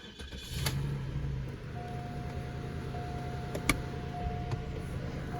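A Cadillac engine with a failed air-ride system idles steadily with a low rumble, a faint whine running through it and a couple of sharp clicks, heard close by; the air pump is not heard kicking on.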